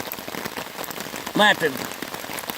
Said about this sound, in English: Yeah, I don't know if you can hear it, but it's raining